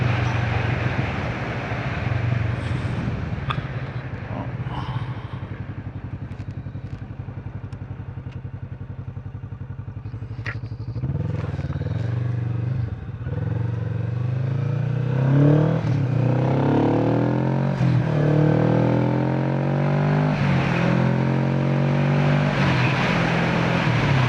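A Kawasaki Vulcan S motorcycle on a country road slowing for a U-turn, engine idling low and steady, then rising and falling as it pulls around and accelerates, with some clatter and wind, close and fairly loud.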